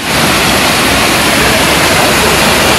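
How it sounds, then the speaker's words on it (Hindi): Waterfall near Doyang, a loud, close, continuous roar of rushing water with a steady full rush and no pauses. "इधर इधर वाटरफॉल है"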